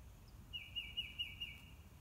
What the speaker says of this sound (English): Lots of birds. Birds everywhere. Lots of birds.